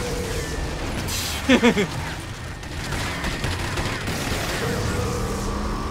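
Rockets launching and bursting in the shooter game RAGE: a quick cluster of two or three sharp, close impacts stands out over a steady background of gunfire and ambient game noise.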